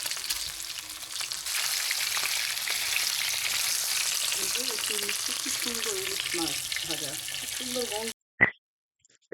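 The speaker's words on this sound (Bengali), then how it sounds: "এই তো মাছগুলো ভাজা হয়ে গেছে।" Hilsa fish frying in mustard oil in a pan, a steady close sizzle and crackle with bursts of bubbling near the end, then it cuts off abruptly, followed by a single clatter.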